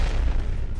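A thrown grenade explodes in PUBG Mobile with a loud, close, bass-heavy boom and rumbling tail that fills the short moment, and no voices are heard.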